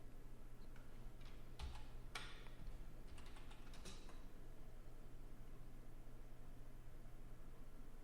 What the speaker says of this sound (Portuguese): Vou pressionar aqui Ctrl Shift O